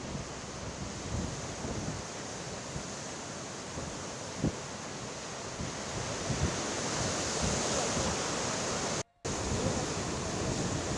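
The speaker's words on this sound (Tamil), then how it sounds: "தொடர்ச்சியாக அலைகள் வேகமாக வரக்கூடிய நிலையில" Rough sea surf at Marina beach during Cyclone Mandous roars steadily and continuously with heavy wind buffeting the microphone, and a brief dropout interrupts it near the end.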